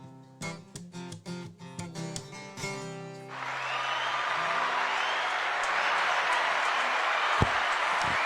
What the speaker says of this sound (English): Mate, the crowd's gone off.